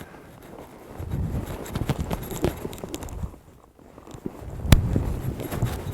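Horse hooves clopping and shuffling on soft ground in a cutting pen, a steady series of dull footfalls at close range with one sharper thud near the end, no talk.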